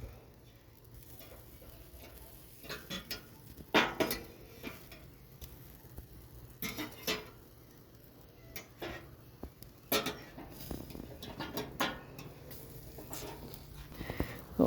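Tongs and a spatula clatter and tick as burgers are flipped on an outdoor charcoal grill: scattered soft metallic clicks and scrapes against a faint sizzle, with occasional quiet voices.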